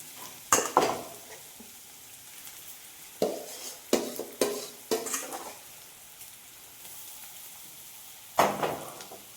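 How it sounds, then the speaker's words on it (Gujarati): Boiled potatoes are stirred and mixed in a hot pan, with a soft sizzle beneath repeated scraping and clattering strokes of a spoon that come in uneven bursts, close and alone. "અને સારી રીતે મિક્સ કરતા જશું"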